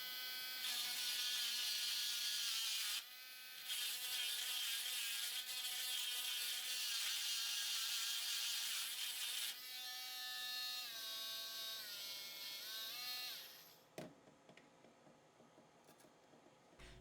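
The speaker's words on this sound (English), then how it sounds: "After trying to force the bolt through, I gave up and got out my rotary tool." A handheld rotary tool whines steadily at high speed while working a bolt opening on a dollar-store craft piece, holding a continuous buzzing tone with a short dip partway through before cutting off near the end.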